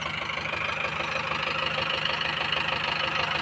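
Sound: Mahindra tractor diesel engine misfiring

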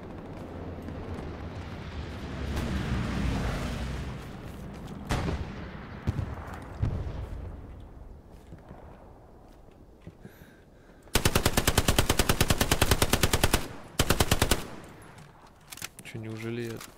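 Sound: gunfire from the video game Hell Let Loose

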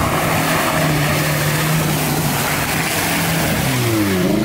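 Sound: car engine revving at full throttle

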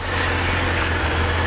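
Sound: motorcycle engine idling

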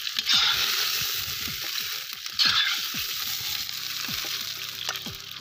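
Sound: frying pork ribs in a pan

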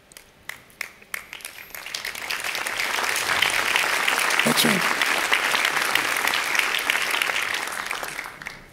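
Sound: audience applause at a conference

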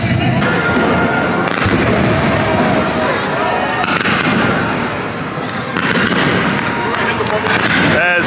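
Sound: fireworks exploding

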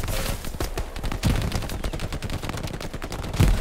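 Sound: machine gun firing in video game Hell Let Loose

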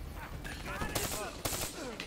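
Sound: ICR rifle gunfire in Call of Duty Black Ops 3 video game

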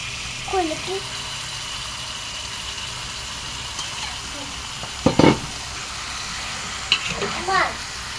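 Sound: chicken meat and liver frying in a pan

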